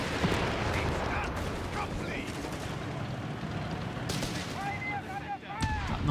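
Dense battlefield gunfire and cannon blasts from the World War II strategy game Company of Heroes 3, rapid overlapping shots and booms that sound continuously, with a commentator's voice running underneath.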